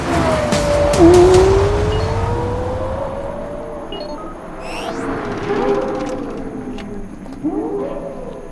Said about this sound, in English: even though these two cars cross the line at about the same time, the Lexus is going 7 miles an hour more quickly